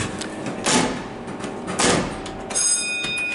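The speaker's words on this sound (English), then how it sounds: "this thing is a slow door" The door of a Schindler hydraulic service elevator slides shut slowly, with a low rumbling rolling sound in two swells, followed by a thud and a faint steady tone.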